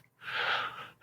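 A voice imitates panting with one sharp, breathy gasp, heard close and alone, lasting about a second.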